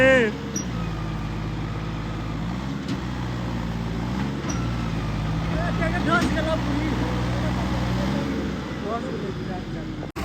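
A John Deere tractor stuck in a muddy field rumbles with a low, labouring diesel engine, a steady drone with brief revving swells, close and loud, while someone talks over it.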